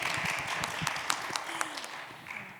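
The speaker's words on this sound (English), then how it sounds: "big round of applause for Dr. Amani" Audience applause at an education conference panel on stage, a fairly faint spread of clapping with a few sharper individual claps, and some low voices murmuring underneath.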